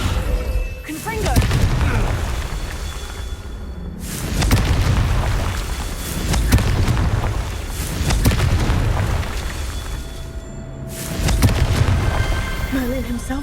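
Repeated booming blasts from the Confringo explosion spell in Hogwarts Legacy, several heavy rumbling bursts spaced a few seconds apart, loud and close, with a voice speaking over the action.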